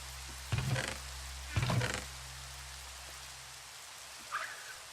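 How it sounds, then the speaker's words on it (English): Steady rain hiss in Minecraft with the FTB Continuum modpack, a continuous quiet wash broken by two louder thudding bursts early on and a faint chirp near the end. "I'm gonna wait for the rain to stop"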